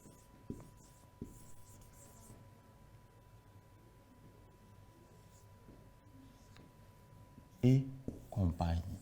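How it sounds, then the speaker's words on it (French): Chalk or marker scratches across a classroom board in short, faint strokes, followed by a louder burst of speech near the end. "Nous allons les écrire face à face."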